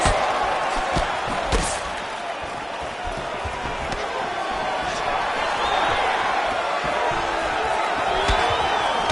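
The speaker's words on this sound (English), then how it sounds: "that punch elicited a reaction from the crowd" A fight crowd roars steadily in a large arena, reacting to a punch with a dense, continuous swell of voices and a few sharp impacts.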